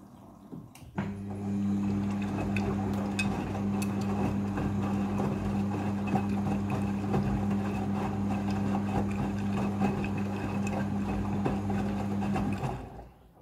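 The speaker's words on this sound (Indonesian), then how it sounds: "Setelah proses pemerasan selesai, masuk ke proses pembilasan air yang kedua" A front-loading washing machine fills with water for its second rinse, giving off a steady, droning hum that starts abruptly, holds constant for about eleven seconds, and then cuts off.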